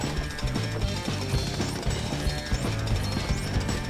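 A jackhammer drill in the Lego City Undercover video game hammers in a loud, rapid, continuous rattle of repeated impacts over a busy game background.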